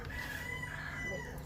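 A rooster crows faintly in the distance at a guinea pig rescue, its drawn-out call carrying over a steady low background hum.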